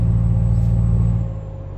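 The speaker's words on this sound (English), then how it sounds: "listen to that highway sound in this truck" Steady engine drone and road rumble from a truck cruising down a highway in Euro Truck Simulator 2, loud and close with a constant low hum that eases slightly near the end.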